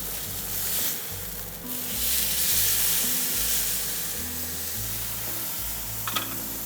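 Flank steak sears in a hot pan with a steady broad sizzle, close and moderately loud, swelling slightly midway and ending with a brief clatter as the meat is flipped; no one speaks.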